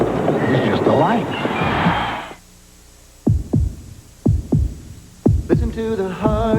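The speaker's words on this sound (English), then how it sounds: "Listen to the heartbeat." Heartbeat sound effect from a Chevrolet TV commercial: after a stretch of voice and music, a series of deep, thumping double beats plays fairly loud and alone, followed by rising music.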